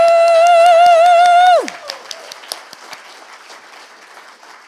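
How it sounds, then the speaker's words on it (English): Audience applause at an Arcadia 2023 retro gaming event, a burst of clapping from a crowd that fades to scattered claps. A loud whistle-like tone drops away at the start of the applause. "So everyone, give a big round of applause for Ali."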